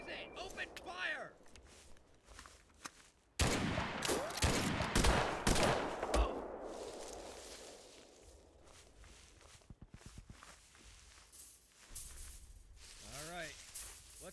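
Video game firefight on Rhine in master mode: loud bursts of gunfire cluster in the middle, framed by footsteps and voices talking over the action.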